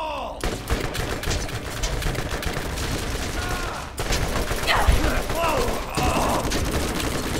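Rapid gunfire in the co-op shooter game Borderlands, dense bursts of shots rattling almost continuously, loud and close, with players talking over the shooting.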